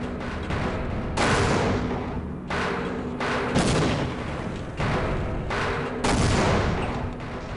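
Grenade explosions in Half-Life: a series of loud, close booming blasts, roughly five or six in irregular succession, each a broad crashing burst over a rumbling game background, with no talk.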